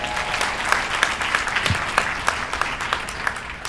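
A large crowd applauds and cheers at a pro-Israel rally in Skokie, a steady wash of clapping with whoops and sharper bursts, loud and close, continuing throughout.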